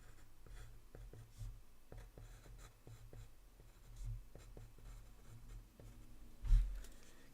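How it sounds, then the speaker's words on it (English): A pen or pencil scratches across a piece of paper in soft, quick, uneven strokes, close and quiet, with a slightly louder tap near the end. "I'm gonna write this down on my piece of paper."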